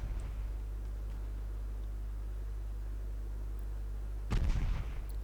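Naval artillery in the video game Ultimate Admiral Dreadnoughts, set in an 1895 battleship fight: a single heavy boom bursts in near the end over a steady low rumble of engines and sea.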